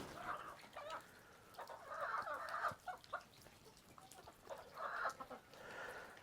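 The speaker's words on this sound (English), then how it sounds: "These chickens stay out in the rain, they don't care." Chickens cluck and call repeatedly outdoors in the rain on a farm, several bursts of clucking rising and falling over steady rain patter.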